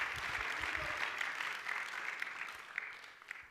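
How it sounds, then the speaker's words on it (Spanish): A church congregation claps together during a sermon, a dense, steady wash of applause lasting throughout at moderate loudness with a slight swell toward the end. "Por eso dele palmas, glorifique su nombre"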